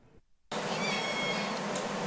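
Kittens at an animal shelter meowing close up in a continuous, insistent overlapping chorus that starts abruptly after a brief quiet moment.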